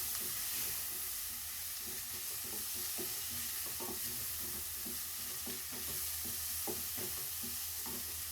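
Chopped herbs frying with chicken filling in a pan sizzle steadily while a spoon stirs, scraping and clacking in irregular strokes over a constant hiss.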